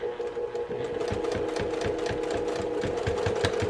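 Sewing machine back-stitching a vinyl project bag, a close, loud, steady rapid needle chatter over a motor hum, with a brief shift in pace as it reverses.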